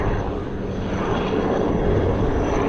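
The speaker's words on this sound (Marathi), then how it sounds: "समोरून एक हेलिकॉप्टर चाललेलं आहे" A helicopter passes nearby, its steady rumbling engine drone loud and continuous throughout, with broadband roar and no break, heard from Suvarnadurg sea fort, Dapoli, Ratnagiri.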